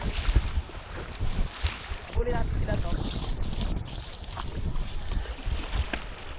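Small paddled boat pushing through strong waves toward a lagoon, with steady wind buffeting the microphone and rushing water throughout, while people talk over it.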